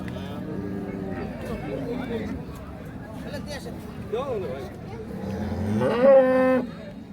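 A Friesian cow at a busy cattle market gives a couple of low, drawn-out moos, the last one loudest and near, over steady crowd chatter and people talking close by.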